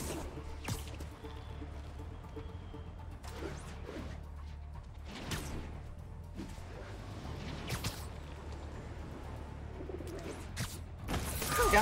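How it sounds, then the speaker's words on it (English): Pigeon cooing in Marvel's Spider-Man, soft and intermittent amid quiet city ambience, with scattered thumps and scuffs over a low steady hum. "Howard's pigeon!"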